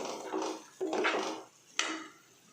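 Aloo samosa chaat with soy sauce is mixed in a bowl: a few close, brisk scraping sweeps of a spoon with sharp clinks against the dish, in short bursts.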